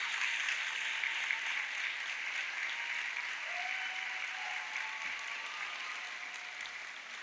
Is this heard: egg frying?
no